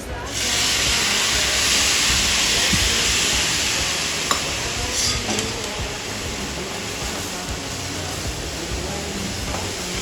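Grated coconut roasts in a pan as milk is added, giving a loud, broad steamy hiss that starts abruptly and runs continuously, slowly fading a little, with a faint clink or two from stirring.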